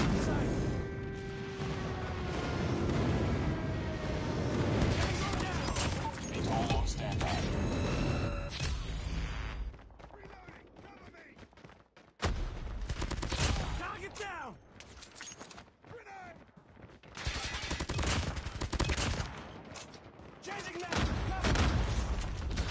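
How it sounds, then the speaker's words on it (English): Airstrike explosions and gunfire in Call of Duty Mobile: a long, dense barrage of heavy booms and rattling shots, loud and continuous, with brief lulls before more blasts, mixed with game noise and voices. "Friendly airstrike incoming."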